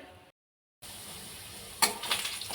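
Fish frying in a pan gives a steady broadband sizzle that resumes after a brief silent break, with a few louder spattering bursts near the end and no talking.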